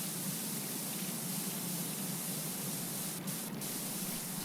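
A pressure washer in the video game PowerWash Simulator 2 sprays down a farm barn, giving a steady, unbroken hiss of water that stays constant throughout at moderate level, with no talk.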